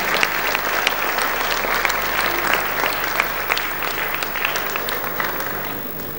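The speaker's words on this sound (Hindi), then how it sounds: "जब तक बापू मंच पर आए तब तक हम लोग तालियां स्वागत करते रहेंगे" A large crowd at a spiritual gathering applauds to welcome a revered speaker to the stage, loud continuous clapping with crisp individual claps standing out over a low steady hum.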